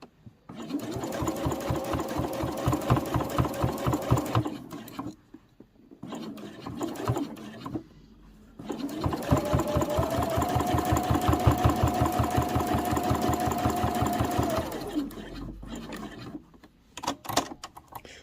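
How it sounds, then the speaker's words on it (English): A sewing machine stitches a seam about an eighth of an inch from the edge on a cross body sling bag, running in two long rapid bursts separated by brief pauses, close and loud. "we're just going to stitch all the way down at approximately 1/8 of an inch, and this will close up this gap here as we go"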